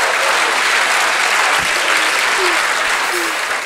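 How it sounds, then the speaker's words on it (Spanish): Loud, steady applause from a crowd fills the whole stretch without a break, a dense wash of clapping with no voices rising above it. "Un fuerte aplauso para el Unihuevo, por favor."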